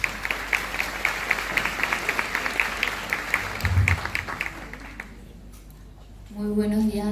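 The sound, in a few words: audience applause welcoming a speaker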